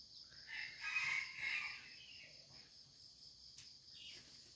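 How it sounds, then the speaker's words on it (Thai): A young red junglefowl rooster gives a short, thin, wavering crow at a distance over a steady background of chirping crickets. "ไก่ป่าตัวที่รักมากโอ้โหเริ่มขันแล้วนะครับหัดขัน"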